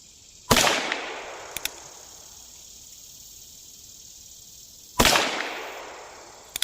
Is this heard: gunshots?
yes